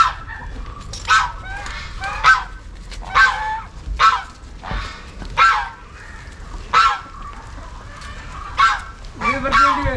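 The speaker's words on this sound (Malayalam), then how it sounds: "അതിനകത്ത് കുറെ ഗൂസ് ഉണ്ട് കേട്ടോ." Geese on a farm honk in repeated loud bursts, roughly one call every second, close by, over a quiet background with other fowl nearby.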